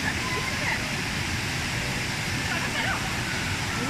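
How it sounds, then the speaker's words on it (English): Kuang Si Waterfalls near Luang Prabang, Laos, a continuous loud roar of falling water with a dense even rush and no break, heard up close. "we are now going to the main attraction of the day, which is the Kuang Si Waterfalls"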